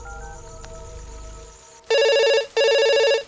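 A telephone rings with two loud electronic bursts after a stretch of low indoor rumble, set in a Hindi-dubbed horror movie scene during rain.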